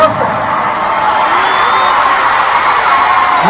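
Fans at a concert cheer, scream and whoop together, a loud, dense crowd roar with high shrieks rising out of it throughout.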